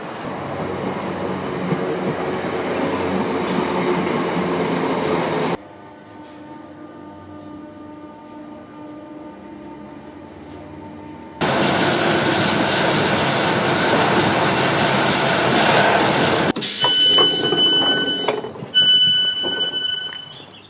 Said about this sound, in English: So we're just back at Salford Crescent now, waiting for a train up to Kearsley